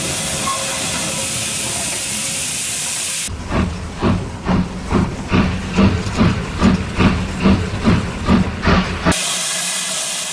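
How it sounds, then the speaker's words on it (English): Andrew Barclay fireless steam locomotive, built 1916, working at a riverside paper mill: a steady steam hiss, then a rapid rhythmic run of loud chuffing exhaust beats as it moves off, ending with a return to hiss. "Andrew Barclay 1471 of 1916 appears moving paper around the mill."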